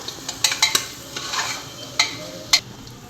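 Pasta being stirred and mixed in a pressure cooker, giving a few sharp scraping and clinking spoon strikes against the metal pot over a soft background hiss, with no voices.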